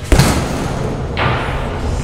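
A punch hitting an arcade boxing machine at a beach, one heavy close thud followed by a second softer impact about a second later, with noisy background.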